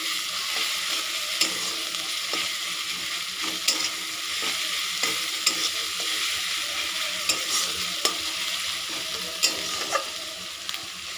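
Onions frying with salt in a pan for a spicy doi chicken curry give a steady close sizzle, broken by occasional spoon clicks and stirring scrapes throughout, with no talk.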